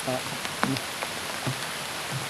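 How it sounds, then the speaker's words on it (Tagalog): Heavy rain pours in a steady, dense hiss close around, with a person talking over the downpour at times. "malakas na yung ulan, baka itong cellphone ko masira yun."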